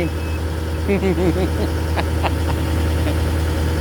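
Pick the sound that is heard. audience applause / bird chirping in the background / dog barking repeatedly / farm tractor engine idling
farm tractor engine idling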